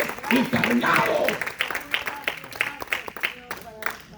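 A church congregation claps rhythmically in time, a steady pulse of hand claps under a preacher's raised voice and singing.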